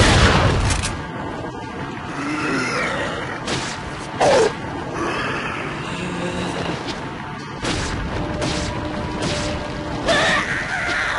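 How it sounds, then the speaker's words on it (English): Shotgun blasts in Resident Evil 4, several loud booming shots spaced a second or two apart amid game sounds and crashes, close and without talk. "Shotgun does more damage than I give it credit for."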